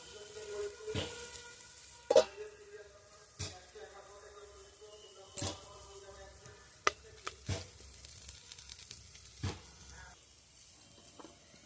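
Broad beans fry in a covered pan with coconut, village-style, giving a faint, intermittent sizzle broken by scattered clicks and knocks of the lid and utensils.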